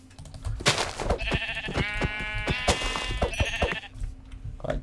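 Sheep in a Minecraft game bleat repeatedly in short wavering calls, several overlapping bleats close by over a low steady background hum.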